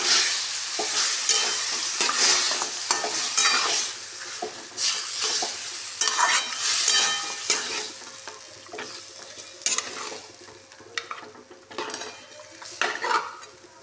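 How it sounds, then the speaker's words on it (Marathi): Mutton frying in a pan with steady sizzling and frequent scraping, clinking stirs of a metal spoon against the pan throughout, close and fairly loud with no talk. "आता मटण टाकून घेते. सारखं मिक्स करायचं."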